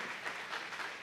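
A church congregation applauds during a worship service, a steady wash of many hands clapping at moderate distance for about a second, with no talk over it.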